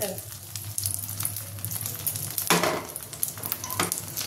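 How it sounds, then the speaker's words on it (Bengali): Prawn toast frying in a little oil over low heat gives a steady close sizzle, with a brief louder burst of bubbling and stirring partway through. "একদম অল্প তেল দিয়ে ভাজতে হবে"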